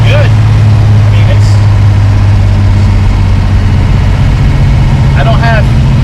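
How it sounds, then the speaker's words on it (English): An old big block car engine runs steadily while warming up, a loud continuous low drone with a few brief squeaks and rattles on top, and no voice heard. "I'm trying to get the engine to warm up a little bit. This old big block takes a while to warm up."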